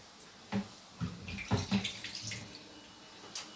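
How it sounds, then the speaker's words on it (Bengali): A bowl is rinsed and a little water poured into it, producing a few soft splashes and sloshes in quick succession, quiet and close by. "এবারে বাটিটা ধুয়ে একটু জল দিয়ে দিচ্ছি সামান্য"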